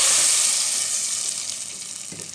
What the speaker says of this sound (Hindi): ये देखिए हमने ये सारा तड़का दाल में डाल दिया है